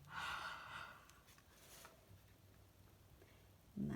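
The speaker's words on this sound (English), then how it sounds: "it's just putting some of your moist air from your mouth on there, and you're just doing a noise, breathing out" A short breathy huff exhaled onto a rubber stamp, a close airy puff at the start followed by quieter breath noise and a faint bump at the end.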